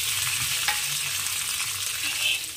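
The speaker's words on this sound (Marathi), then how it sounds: "आता आपण यामध्ये 1 चम्मच तेल टाकून घ्यायचं आहे आणि तावा गरम पण झाला। आता आपण मिरची टाकून घेऊ" Green chillies fry in oil on a hot tawa, making a dense, even hiss of sizzling oil that stays close and steady for the whole short stretch, with a faint click near the start and no voices.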